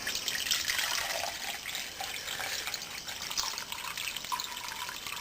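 Liquid poured into a container while making a homebrew electrolytic capacitor, a continuous splashing trickle of running liquid at close range lasting the whole stretch, with no talking.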